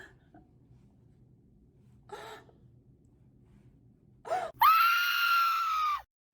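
A woman screams hysterically during a horror screenplay reading, first a few faint gasps and breaths in near silence, then a sudden, loud, sustained high-pitched scream that cuts off abruptly.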